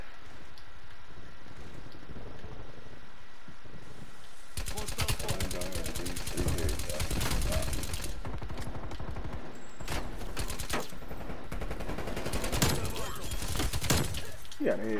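Rapid bursts of gunfire in a shooter video game, starting after a quieter stretch and running loud and dense with sharp cracks and rattling automatic fire; a voice talks faintly early on.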